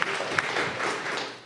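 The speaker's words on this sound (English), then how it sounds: "I need some applause for that." An audience at a Bitcoin infrastructure meetup claps briefly, giving a short, moderately quiet burst of scattered applause with a few sharper individual claps.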